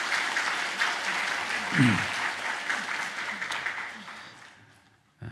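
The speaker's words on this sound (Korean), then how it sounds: "다시 한번 박수 하겠습니다" A church congregation at Sunday worship applauds after a choir performance, a broad, even patter of many hands that fades out toward the end, with a voice briefly audible under the clapping.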